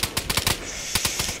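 Gunfire in the video game DayZ on PlayStation 4, a rapid burst of loud close shots in an uneven stuttering rhythm, with a short gap before a few more shots.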